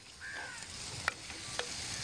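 Chopped green chilies, shallots and ginger sauté in three teaspoons of hot oil for a prawn and banana curry, giving a steady close sizzle broken by a couple of sharp clinks from stirring, with no speech.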